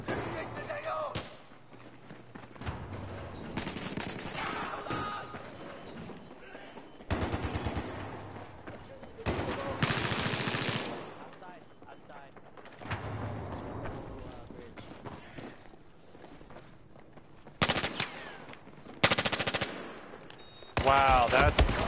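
Bursts of automatic gunfire from a first-person shooter match, several loud rapid volleys separated by quieter gaps, with people talking over the shooting.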